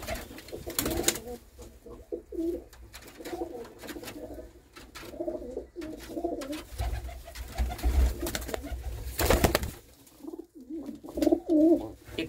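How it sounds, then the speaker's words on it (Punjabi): Domestic pigeons, including a hen sitting on eggs, coo in low throaty bursts close by, with short pauses and a few louder bumps and rustles between the calls. "ਕੀ ਅੰਡੇ ਤੇ ਬੈਠੀ ਹੋਈ ਹੈ ਜੀ ਕਬੂਤਰੀ"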